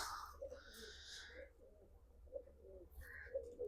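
Pigeons kept by a Punjab fancier coo in repeated low, soft throaty phrases against a steady background hum, with a faint brighter sound near the start.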